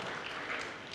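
A church congregation claps together in a dense, even wash of applause filling the moment, with no voices standing out.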